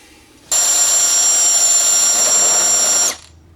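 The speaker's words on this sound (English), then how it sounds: "we're going to use the drill and drill the 3/4 holes in those" A power drill bores a 3/4 inch hole in steel bar stock for a 1948 tractor rear step plate, one sustained loud high-pitched whirring grind lasting about two and a half seconds, then stopping abruptly.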